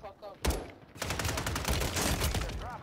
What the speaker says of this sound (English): Well, let's get our gun. Our nail gun.